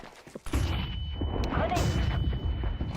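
Flashbang grenade going off in Counter-Strike 2: a sharp loud bang right after a short lead-in, followed by a sustained ringing roar of game noise, close and dominant.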